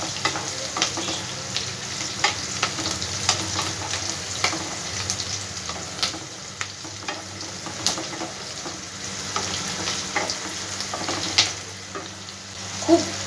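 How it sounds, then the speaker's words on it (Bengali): Onions sizzle in hot oil in a pan for a meatless potato curry, a steady close hiss with scattered crackles and pops, with no voices over it. "খুব বেশি আমি পেঁয়াজটা ভাজবো না, অল্প ভেজে নেব।"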